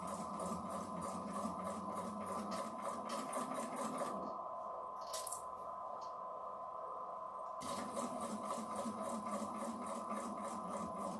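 An industrial sewing machine stitches in steady rapid bursts, pausing briefly mid-clip before resuming, with a constant motor hum beneath the stitching and no voices.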